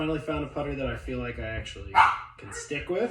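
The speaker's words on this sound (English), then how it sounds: "You can hear my dog freaking out in the background." A pet dog barks and whimpers in short, agitated bursts somewhere behind someone talking close up, its yelps rising over his voice now and then.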